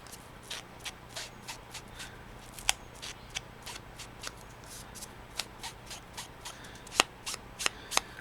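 Scissors snip around the cut edges of a paper stamp in a quiet room, giving a steady run of soft, close cuts with a few sharper snips.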